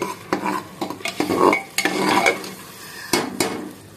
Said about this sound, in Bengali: হালকা করে নাড়তে থাকতে হবে, কেন আমাদের মশলাটাকে কিন্তু কষাতে হবে।